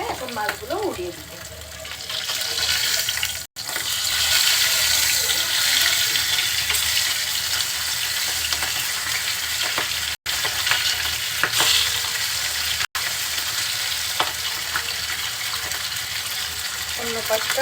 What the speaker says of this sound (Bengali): অন্য পাশটাও কিছুক্ষণ ভেজে নিব।